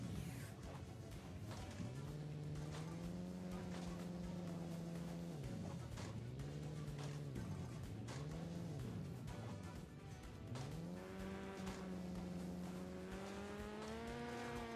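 Synthetic racing truck engine drone in Hill Climb Racing 2 rising and falling in pitch as it revs and accelerates repeatedly, loud and continuous with a tire-squeal edge.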